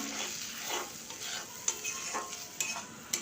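Ground spinach paste frying in masala in a pan for a spinach and cauliflower curry, a quiet sizzle broken by repeated scraping stirs and light clinks of a spoon on the pan, no voices.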